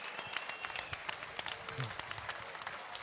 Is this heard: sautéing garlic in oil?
no